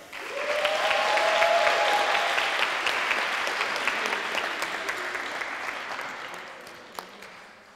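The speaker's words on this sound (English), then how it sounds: "Can I get one more applause for Loren Seldarovic?" Sustained applause for a debate speaker at the final of an international debate tournament in Ljutomer, Slovenia, swelling early, holding steady, then thinning toward the end, with a faint voice briefly heard near the start.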